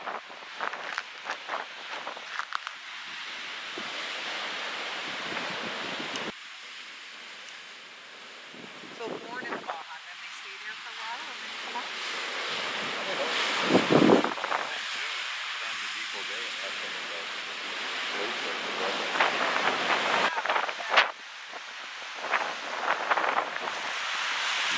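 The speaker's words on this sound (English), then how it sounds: "Sand and surf in Depoe Bay." Ocean surf rolling onto the sand at Depoe Bay on the Oregon coast, a broad washing hiss that swells and fades, mixed with gusty wind buffeting and occasional footsteps.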